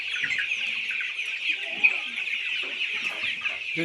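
Desi chickens cluck steadily at a poultry farm, a dense, continuous flock chorus with scattered individual calls rising above it, moderately loud and without speech.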